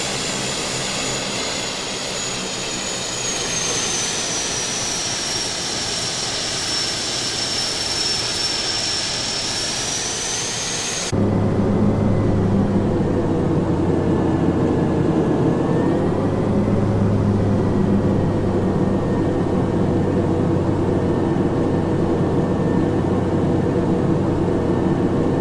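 Steady engine hum of a Cessna Caravan taxiing to parking in the Infinite Flight simulator, loud and continuous with a high turbine whine at first, then a deeper, louder drone after an abrupt shift partway through.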